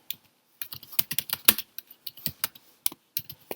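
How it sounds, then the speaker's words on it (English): Keys clacking on a computer keyboard while entering a lab exercise label, a quick, irregular burst of close, crisp taps with short pauses between clusters, no voices. "So I'll put that, I'll type that in there"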